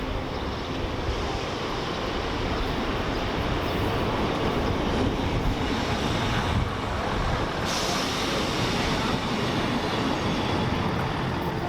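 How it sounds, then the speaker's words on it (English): A train arriving at Chester station from Holyhead rumbles steadily nearby with rolling wheel noise and faint metallic squeals, a continuous heavy roar that holds throughout. "here's the train coming in from Holyhead"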